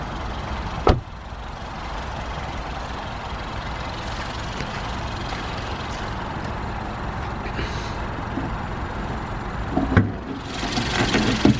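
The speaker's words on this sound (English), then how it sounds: "that's a 1600 petrol engine with a 6-speed manual gearbox" A steady, low rumble from a Kia Sportage's 1.6-litre petrol engine with six-speed manual gearbox idles throughout, broken by a sharp click near the start and another brief burst of mechanical noise toward the end.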